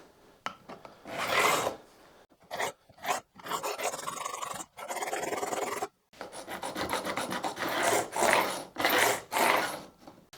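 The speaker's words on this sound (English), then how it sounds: "I've got this really shit angle file, which I think is a bit too much of an angle" Rough rasping strokes of an angle file dressing guitar fret ends on a scratch-built fabric-top NF-53 Tele, coming in bursts of repeated scrapes with short pauses between.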